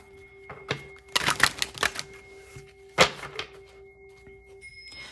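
Tarot cards are riffled and tapped in quick bursts, a few crisp shuffles with short pauses, close by and fairly loud.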